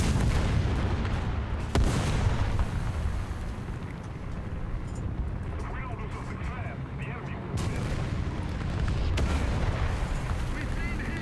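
Tank cannon fire booms through a War Thunder battle, with heavy engine rumble and battle noise throughout. Several louder bangs stand out, one near two seconds and more toward the end.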